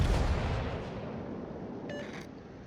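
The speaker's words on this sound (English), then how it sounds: "An HE shot against an angled Azumo." An HE shell fired at an angled Azumo in World of Warships, likely from the Jean Bart, lands as a loud booming blast that fades into a long low rumble, with a brief faint chime near the end.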